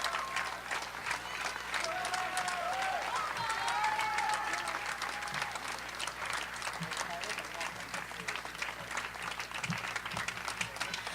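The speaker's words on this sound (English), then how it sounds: "Guys, can we get them one more round of applause?" Sustained audience applause at a theatre show's curtain call, a continuous crowd clapping with some cheering and chatter underneath, moderately distant and even throughout.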